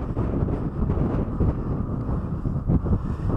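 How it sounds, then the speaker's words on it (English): Strong gusts buffet the microphone at a high, exposed viewpoint, producing a steady, loud, low roar with no voices. "Super duper windy up here."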